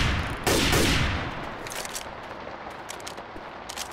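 Gunfire aimed at a Charger infected in the zombie shooter Left 4 Dead 2 on Xbox One: a loud, dense burst of shots early on, fading into scattered quieter clatter and combat noise.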